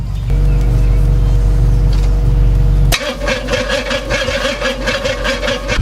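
A steady mechanical hum stops abruptly, then a car starter cranks in rapid rhythmic churns without the engine catching, on a weak battery.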